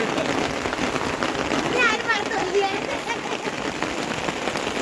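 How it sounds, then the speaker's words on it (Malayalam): Steady rain mixed with falling ice pellets in Doodhpathri, Kashmir, a dense, continuous patter and hiss close by, with faint voices in the background. "മഴ പെയ്യുന്നുണ്ട്. പക്ഷേ മഴേനെ കൂട്ടത്തിൽ വീഴുന്ന ഐസാണ് ആ വീഴുന്നത് കേട്ടോ."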